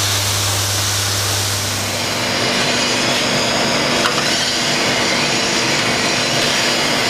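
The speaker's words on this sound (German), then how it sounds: "Nun schleife ich die Heftstellen spitz. Dazu nehme ich eine kleine Flex mit einer Millimeterscheibe da drauf." A continuous harsh, high grinding hiss of a small angle grinder with a thin cutting disc grinding down tack welds, at a steady, loud level, close by, with no pauses.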